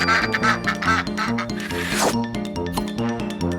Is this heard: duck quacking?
yes